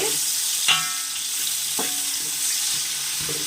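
Cashews, biryani spices, bay leaves, tomato, green chilli and onion sizzling in a pan, a steady fry hiss broken by several sharp spatula scrapes and clinks as the mix is stirred.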